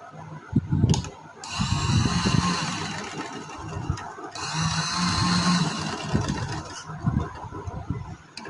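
A sewing machine stitches a frock seam in two sustained running bursts with a rapid low mechanical chatter. It is close and moderately loud, with short pauses and handling knocks between the runs.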